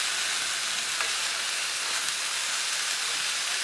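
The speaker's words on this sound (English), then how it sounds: "We're going to put flavoring in here." Broccoli and soy sauce sizzle hard in a hot pan, a loud, steady frying hiss that carries on unbroken with no talking over it.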